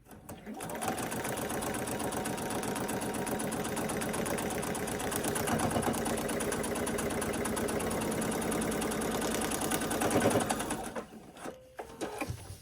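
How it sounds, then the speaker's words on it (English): A sewing machine runs continuously as it stitches an on-point quilt border, a fast, even needle clatter close by that stops near the end. "I let my machine do the work."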